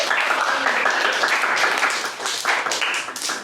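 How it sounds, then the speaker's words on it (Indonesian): A classroom of students applauding together, a dense, loud, steady wash of clapping throughout with faint voices mixed in. "bisa tepuk tangan dulu"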